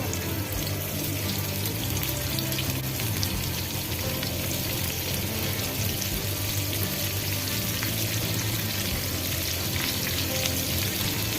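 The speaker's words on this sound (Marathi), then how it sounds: "तेल गरम झाल्यानंतर त्याच्यामध्ये आपण हे बोंबील टाकतो आहे सगळे" Bombil (Bombay duck) fish shallow-fry in hot oil in a pan on a gas stove, giving a steady, dense sizzle and crackle that runs continuously and close, with no talking.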